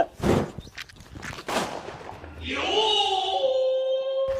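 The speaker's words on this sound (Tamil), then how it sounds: "எவன்டா பட்டாசு வெடிச்சத?" Two sharp, loud firecracker bangs a second apart, followed by a steady high-pitched ringing tone that lingers to the end.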